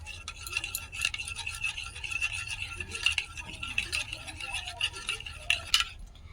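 Homemade lip balm ingredients with a vitamin E capsule are stirred and mixed in a small container, giving close, steady scraping and clinking with brief louder scrapes throughout.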